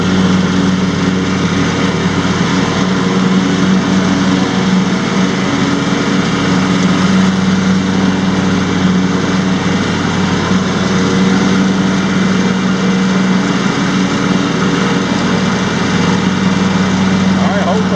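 A 2017 John Deere X350 lawn tractor cutting grass in mulching mode, its engine holding a steady, loud drone with an even hum throughout and no change in pace.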